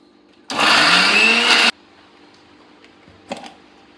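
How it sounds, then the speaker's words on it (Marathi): A mixer grinder grinding onion whirs loudly in a single burst of about a second, then stops, leaving a quiet room with a brief clatter afterward. "म्हणून मीठ टाकून वाटायचं मिक्सरला"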